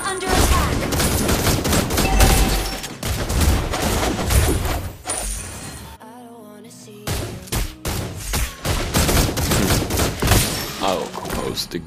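Battle in a MOBA game with a turret under attack, dense bursts of rapid gunfire-like shots and impacts, with a brief quieter gap midway before the barrage resumes, and voices calling out over it.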